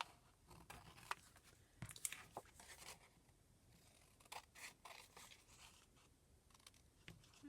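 Quiet, intermittent snipping and crisp rustling as large scissors slice through paper in short irregular strokes, close by with no talking.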